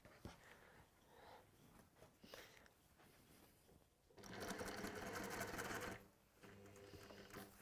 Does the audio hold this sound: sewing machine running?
yes